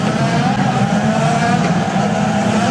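IndyCar race cars from the Penske team roar along a circuit while attempting to pass the cars ahead, a steady loud engine drone sustained throughout with no breaks.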